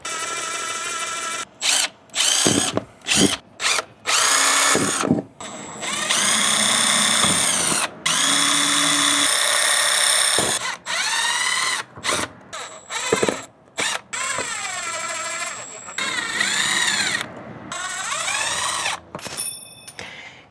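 Power drill driving four sizable screws to mount a security camera, in repeated whirring bursts of varying length separated by pauses and small handling clatter, close and loud.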